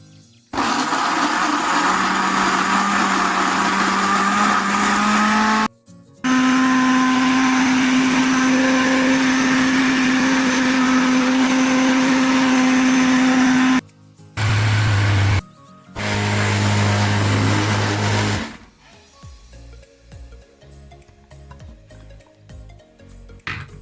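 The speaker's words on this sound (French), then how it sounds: "transférer le tout dans le mixeur et laisser le mixeur faire le travail" An electric blender grinds garlic and ginger into paste with no liquid added, running in loud, harsh bursts separated by short pauses, with a quieter clattering tail at the end.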